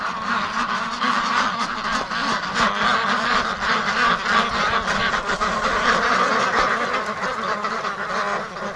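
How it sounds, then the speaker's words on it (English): A flock of Muscovy ducks and other fowl in a winter breeding yard, a dense, continuous chorus of honks and quacks overlapping closely at moderate volume, with no talking. "Relax, you silly ducks."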